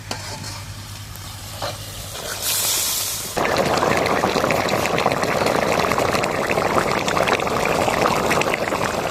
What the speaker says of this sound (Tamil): தண்ணி லைட்டா ஊத்திக்கலாம், ஏன்னா மீன்லயே தண்ணி இருக்கும்